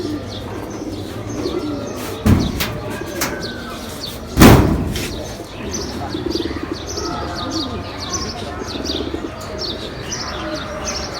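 Pigeons in a loft make soft, continuous cooing and chirping at moderate distance, interrupted by a couple of loud bangs, one sharp and one heavier, with faint voices in the background.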